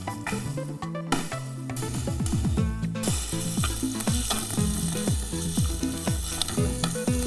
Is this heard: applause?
no